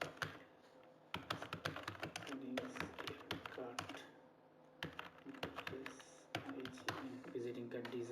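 Typing on a computer keyboard while setting up a business card design in Photoshop, with rapid bursts of close clicking keystrokes, brief pauses between runs, and a voice talking over parts of it.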